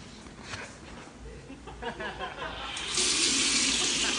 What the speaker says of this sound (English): That's the water going on.